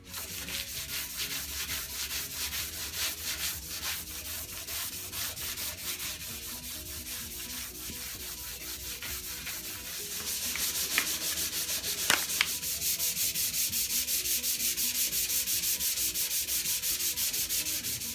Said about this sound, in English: So this is 80 grit sandpaper that we're going to start with.